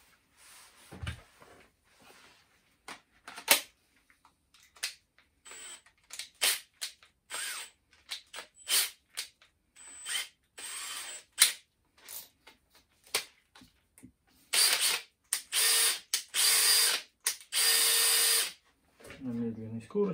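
Makita cordless drill driving a screw into a workpiece, compared against an impact driver: repeated short bursts of motor whine, then longer sustained runs near the end, with pauses and handling clatter between.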